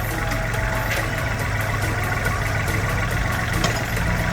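The three-cylinder engine of a 2018 Kubota L4018DT tractor idles smoothly nearby, a steady low hum with an even rumble and no talk.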